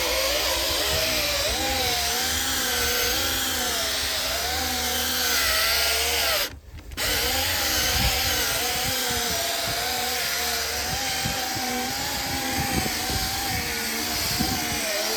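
A power tool polishes a hazy, yellowed car headlight, a steady loud whirring drone that runs continuously, cutting out briefly midway before resuming.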